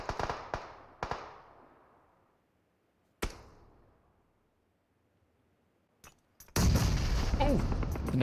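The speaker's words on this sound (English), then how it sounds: "Oh, the shots are flying up once again." Gunfire in a tournament match of a multiplayer shooter, a few sharp isolated shots echoing and decaying, then a loud dense burst of shooting near the end.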